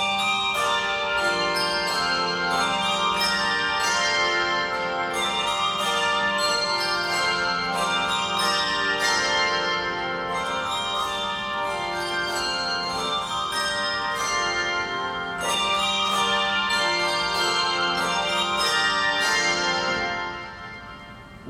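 Several bells ring in overlapping tuned peals at an opening ceremony, with regular strikes and long sustained resonance layering into a continuous ringing that fades toward the end, with no talk over it.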